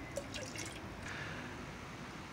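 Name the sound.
pouring liquid plant supplement into water mixture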